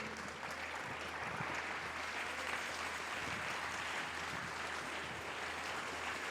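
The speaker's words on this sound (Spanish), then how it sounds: "Alguien déle una ofrenda de palmas a su Señor." A church congregation gives an offering of applause to the Lord, sustained, fairly even clapping from many hands over a low steady hum, faint and distant, lasting several seconds without a break.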